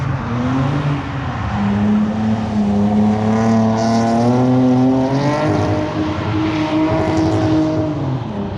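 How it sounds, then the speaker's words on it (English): A Toyota IS300 drift car roars at a Halloween drift contest at Evergreen Speedway, its engine holding a loud, steady rasp with pitch swings as it is thrown into the slide, close and continuous. "And another IS300, throwing it in there."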